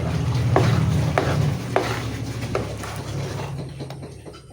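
Suman sa latik being stirred in a pan, a thick sticky mixture with a low bubbling hiss and steady rhythmic scraping of the spoon, loud and close.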